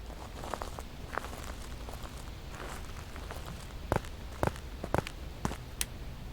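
Footsteps in the video game Campsite, a handful of soft irregular steps over a constant rain-like ambient hiss, growing a bit sharper and more frequent near the end.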